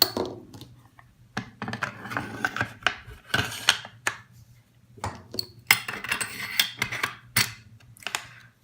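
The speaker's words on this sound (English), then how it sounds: "All that's left is to slide the handguard back on." M1 Garand handguard being slid back onto the rifle, a close sequence of scraping, rubbing and clicking metal-and-wood contacts in irregular bursts, with a low steady hum underneath and no talk.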